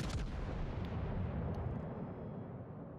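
A warship's naval guns fire a heavy booming salvo in the World of Warships video game, a loud close blast that rumbles and fades over a few seconds.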